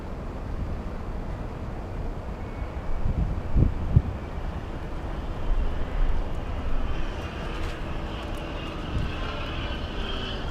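A heavy Airbus A350 airliner on short final to runway 24 right at LAX gives a continuous broad jet roar with wind buffeting, swelling slightly midway through, with no other sounds.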